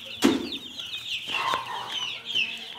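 Cochin chickens on a farm, several birds clucking and chattering close by, with one sharp squawk near the start and softer overlapping clucks throughout.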